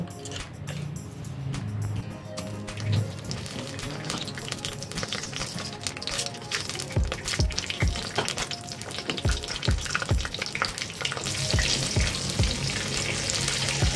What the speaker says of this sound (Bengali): আলুগুলো ভাজাই আছে, তাও আবার একটু দিয়ে দিলাম, তেলে নাড়িয়ে নিলাম